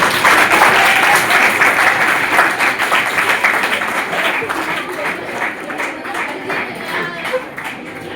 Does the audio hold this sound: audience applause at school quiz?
yes